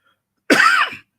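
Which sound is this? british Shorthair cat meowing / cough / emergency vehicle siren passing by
cough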